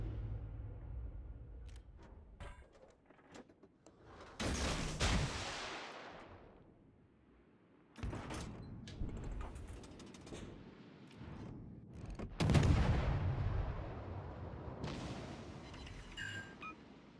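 Heavy naval gunfire from warships in the game World of Warships: Legends, with several loud booming salvos around 4.5, 8 and 12.5 seconds, each trailing off into a long rumbling decay, with no talk.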